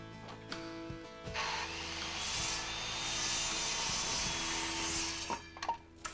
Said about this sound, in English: Using a reciprocating saw, notch the second support post to the width of the outer beams and saw the excess off the end of the post.